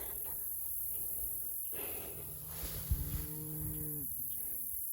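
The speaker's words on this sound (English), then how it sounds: "Getting ready to move the cows." Cattle on a farm lowing, a couple of drawn-out moos in the middle over quiet outdoor background, fairly near.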